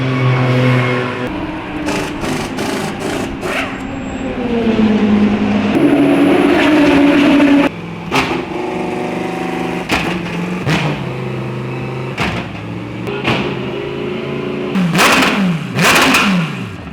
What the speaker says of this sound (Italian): Questa è la procedura di riscaldamento di queste autovetture.